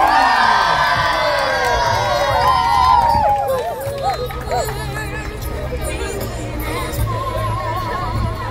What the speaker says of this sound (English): A round of applause to Indonesia!